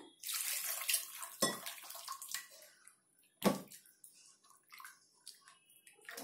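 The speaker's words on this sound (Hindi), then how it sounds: "थोड़ा सा और पानी मिलाएंगे इसमें" Water pours into ghevar batter made with chilled milk in a home kitchen, a steady splashing stream with two sharp sloshing bursts and softer trickles between.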